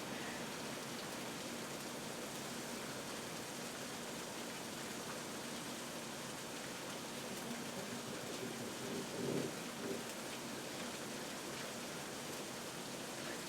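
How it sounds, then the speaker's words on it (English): Water sizzles during feather repair, a faint, continuous broadband hiss like light rain that holds steady throughout, with a small swell near the end and no voices. "Water sounds really good sizzling"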